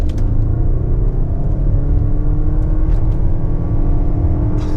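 A 2023 Lexus RX hybrid pulls away through its CVT, giving a steady, loud low engine and road rumble heard from inside the cabin, with a few faint clicks over it.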